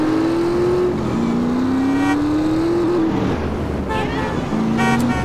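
Motorcycle engine in a modded Grand Theft Auto game, revving in long sustained rising tones with brief drops between, loud and steady with game ambience beneath and no talk.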